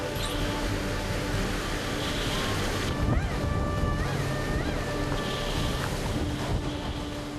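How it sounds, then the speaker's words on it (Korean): A 29-ton fishing boat pushes through large waves at sea with a constant loud roar of wind, water and engine. Faint tonal whines and creaks rise and fall over it, and a heavier surge of water comes midway. "파도를 넘으며 전진하는 29톤 어선."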